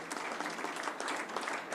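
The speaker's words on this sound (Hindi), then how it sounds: "एक बार जोरदार तालियां बजा करके आप सब लोग नितिन गडकरी साहब का स्वागत करें" A crowd claps loudly and steadily to welcome Nitin Gadkari at a BJP virtual rally in Rajasthan. The applause is dense and continuous throughout, with no voices standing out.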